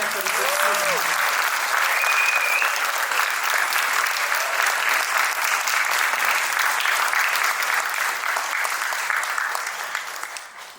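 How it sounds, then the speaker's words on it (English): Sustained audience applause for a city band's final summer concert of the season, a steady dense wash of clapping lasting about ten seconds before tapering off at the end. "can we give them just a hearty round of applause for their commitment for the season"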